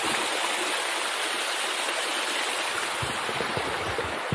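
Waterfall in the bush near Hobart, Tasmania, giving a steady, dense roar of falling water that stays constant and fairly loud throughout, with no voices.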